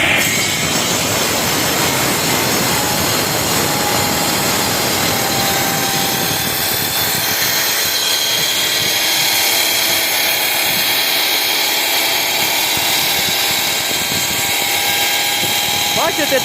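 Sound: brick cutting machine cutting facing brick

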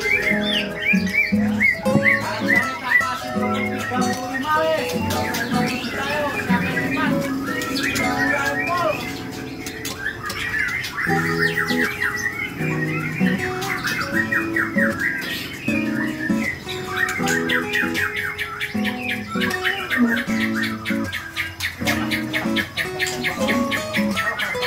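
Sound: female murai (magpie robin) bird calling

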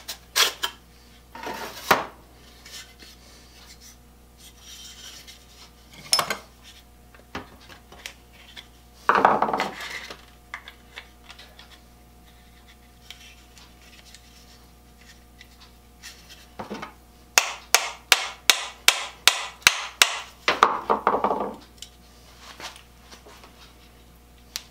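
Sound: hammering to free saw tote from blade

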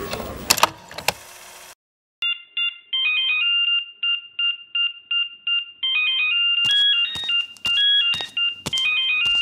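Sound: telephone ringing with an incoming call

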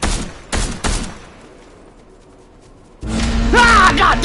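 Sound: gunshots in a video game

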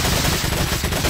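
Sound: gunshots in the video game Resident Evil 4

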